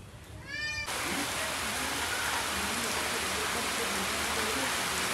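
Rain begins falling in a village. A cat meows briefly, then a loud, steady hiss of rain fills the rest of the clip.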